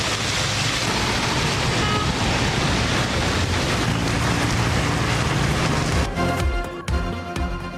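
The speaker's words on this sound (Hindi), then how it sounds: "इस्लामाबाद और रावलपिंडी में एक बार फिर मूसलाधार बारिश।" Heavy rain pours down in Islamabad and Rawalpindi, a dense, loud, continuous hiss and patter. Near the end it shifts toward background noise and music.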